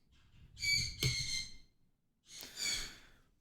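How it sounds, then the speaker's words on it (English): Birds calling outdoors, heard from indoors: two breathy, whistling calls, each lasting about a second, with a short gap between them. Both are fairly clear and nothing else is heard. "Those birds are awake today."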